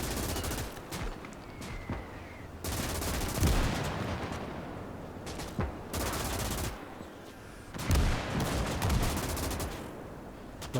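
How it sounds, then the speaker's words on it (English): A tripod-mounted MG42 machine gun firing in the strategy game Gates of Hell, several long, loud bursts of rapid fire separated by short pauses, with heavy impacts underneath. "It's like an MG42 or something on a tripod."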